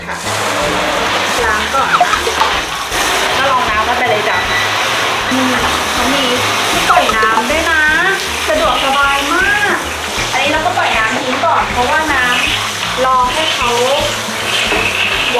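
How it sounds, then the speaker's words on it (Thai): Water from a water heater runs steadily into a SNOW OWL baby bathtub, a continuous rushing splash throughout, with someone talking over it. "เราก็เปิดน้ำ"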